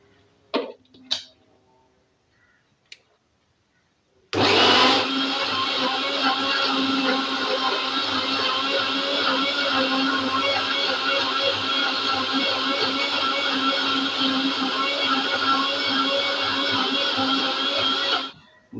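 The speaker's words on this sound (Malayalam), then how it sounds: "ഏത്തക്കയും പഞ്ചസാരയും അതിൻ്റെ കൂടെ ഏലക്കയും കൂടി ഇട്ട് അടിച്ച് നല്ല ജ്യൂസാക്കി വെച്ചിട്ടുണ്ട്" Mixer grinding plantain with sugar and cardamom into juice: a loud, steady, continuous whirring drone that starts abruptly after a few faint clicks and coughs and runs unbroken for about fourteen seconds before cutting off.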